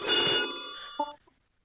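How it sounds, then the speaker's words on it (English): A telephone ringtone chimes brightly and loudly with bell-like tones that fade out over about a second, then a couple of short, softer notes follow before it stops. "As always, lovely ringtone. Keeps playing just a little bit longer than you need it to."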